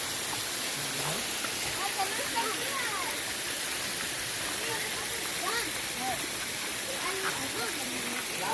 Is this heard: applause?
no